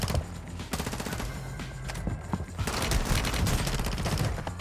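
Rapid SMG gunfire in Warzone, a secret submachine gun similar to the FSS Hurricane, rattling in dense continuous bursts with loud overlapping shots and a few brief pauses throughout.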